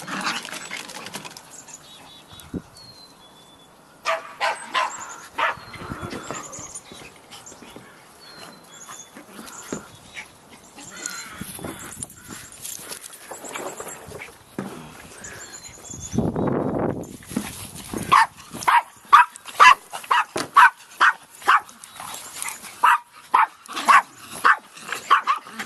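Several dogs bark excitedly outdoors in repeated yips and barks that grow busier and louder toward the end, some close and some farther off.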